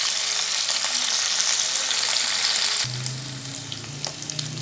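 Onions sautéing in a pan with mint and bay leaf give a steady, close sizzle of frying. The tone deepens partway through as the pan noise shifts, and stirring continues throughout.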